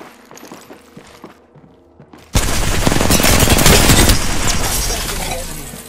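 Sustained automatic gunfire in the battle royale game Apex Legends breaks out loudly after a quieter stretch of game sound and continues as a dense, rapid burst to the end.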